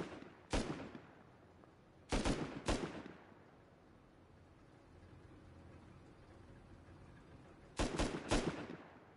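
Gunfire from players in the console edition of the video game Rust during a raid weekend event: sharp loud bursts of two or three shots, a pause, then a tight cluster of several rapid shots, set against quiet background ambience.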